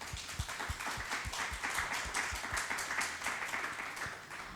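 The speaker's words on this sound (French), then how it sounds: "et j'aimerais qu'on les applaudisse, s'il vous plaît" Steady applause from a conference audience, welcoming panel speakers at a business talk on entrepreneurship, with dense overlapping claps held at an even level throughout and no voices over it.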